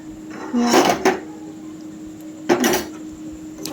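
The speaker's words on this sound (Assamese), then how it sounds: "দি পেলাই ভালকৈ মই লৰাই দিম" Spiced pork being stirred in a pot with cumin powder, chili powder and meat masala: two separate bursts of scraping, clattering spoon-on-pan noise, close and fairly loud, with quiet gaps between.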